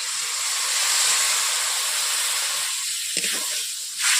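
Water poured into spices frying in a pan for Bengali prawn malai curry gives a loud, steady steamy hiss and sizzle, swelling briefly near the end.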